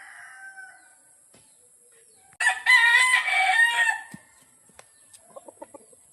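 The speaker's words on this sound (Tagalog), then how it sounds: "ang manok ni Boss Pedro, 13 gulangan na ni." A rooster in a rural province setting gives one loud, close crow lasting just over a second out of quiet surroundings, followed by a few soft clucks.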